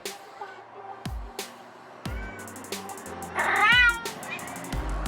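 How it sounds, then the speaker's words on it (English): Recorded cat meows played through a phone app, several distinct meows spaced out over a few seconds, fairly close and loud, with one longer wavering call near the end and soft thumps between. "my cat Isis also really loves the sound of other cats, so I have this app that I use to draw her attention"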